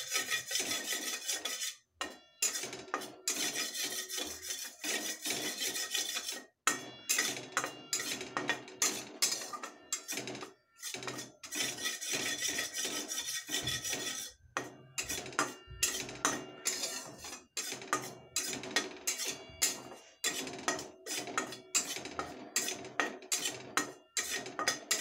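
Metal spoon or spatula scraping and clattering steadily against a pan while flour is stirred and dry-roasted for jaggery poli, a continuous busy rhythm of scrapes and knocks, close and fairly loud, with no voices.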